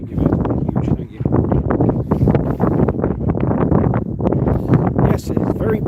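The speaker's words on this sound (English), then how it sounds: "it's very breezy here, as you can probably tell" Strong gusty breeze at Inverness Airport buffets the microphone in loud, rumbling bursts, with a voice talking throughout underneath.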